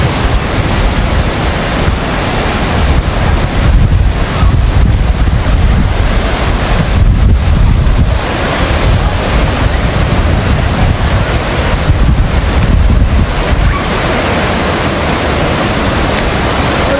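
Sea waves break on the shore on a beach outing, a loud, continuous wash of surf mixed with heavy wind buffeting the microphone, with no voices.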